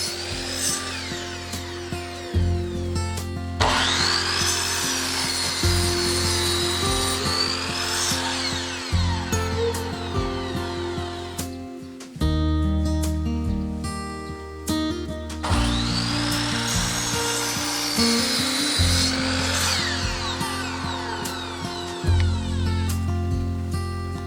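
A block of wood being cut by hand in a rural house workshop, a steady scraping saw rhythm running throughout with a short pause midway before the strokes resume, close and fairly loud.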